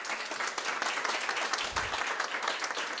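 Steady applause from an audience at a science teachers' day award ceremony fills the room continuously, a dense, even wash of many hands clapping together at moderate distance.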